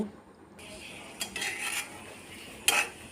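Cooked ramen noodles stirred with spice masala in a pan: a few separate scraping and clinking strokes of a utensil, one short and sharp near the end, over a faint background.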